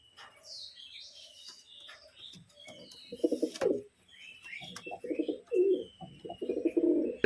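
Pigeons cooing close by, low throaty rolling coos in several bursts during the second half, mixed with thin chirps from small birds earlier, no talk.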